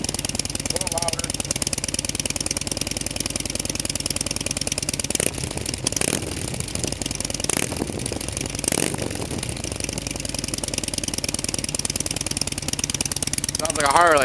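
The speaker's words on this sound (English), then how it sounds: "Sounds like a Harley now." Harley motorcycle fitted with 1 3/4 inch baffles idles steadily at close range, a continuous loud lumpy engine drone with a few short throttle bumps and no talk over it.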